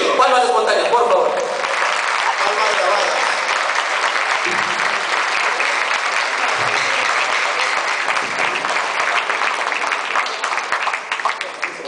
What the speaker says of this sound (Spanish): Palmas espontáneas, por favor.